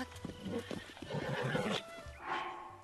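Video-game horse in Zelda: Breath of the Wild whinnies loudly and close, with soft clip-clop hoof steps running under the neigh.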